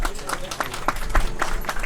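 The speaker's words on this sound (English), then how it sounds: "Can we hear a huge round of applause for them?" A crowd at a Ratha Yatra festival concert in Ottawa applauds the dignitaries, with uneven claps and some talking mixed in across the short burst.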